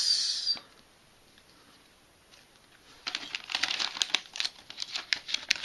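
Plastic bags holding Sluban Formula building set pieces crinkle and rustle close by, a brief rustle at the start, then quiet, then steadier crackling handling from about three seconds on; no speech.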